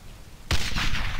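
A sudden loud boom of an explosive detonating in the video game Brothers in Arms: Hell's Highway erupts after a quiet stretch, followed by a rumbling, crackling tail that lingers to the end.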